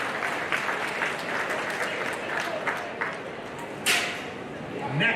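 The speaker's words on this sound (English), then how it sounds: "let's give Mr. Creed Ruby from Clark County a big round of applause" Audience applause fills a livestock show arena after a youth exhibitor from Clark County is introduced at the South Central Iowa Showdown, steady broad clapping with a few louder claps and crowd noise throughout.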